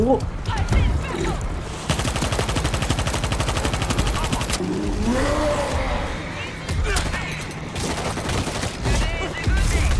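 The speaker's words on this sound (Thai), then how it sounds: "เต้ยดูขวาให้หน่อยเดี๋ยวยิงซอมบี้จากตรงนี้" Rapid gunfire from weapons shooting zombies in the video game World War Z: Aftermath, with sustained automatic bursts and shorter volleys, loud and close, mixed with game noise and a voice talking.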